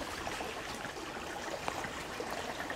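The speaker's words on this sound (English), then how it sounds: "My new favorite water filter." Water trickles through a small portable filter about the size of a pair of sunglasses, a soft continuous hiss and dribble that stays close and even throughout.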